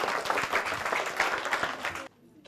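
A dense burst of clapping from a group at a children's gathering, loud and continuous for about two seconds before cutting off abruptly into near-silence.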